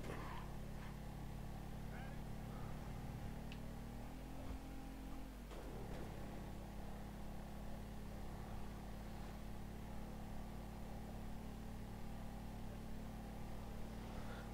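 A motorcycle engine drones steadily while riding through city streets in GTA V, shifting pitch once midway, with someone talking in Swedish over it.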